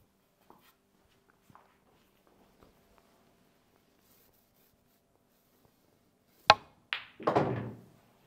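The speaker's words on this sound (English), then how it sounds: "I'm going to pop this ball into the corner and cannon into these balls here." Cue ball struck on an eight-ball pool table, followed by a sharp crack as it cannons into a cluster of balls and a quick rattle of collisions, after several seconds of faint taps and quiet room tone.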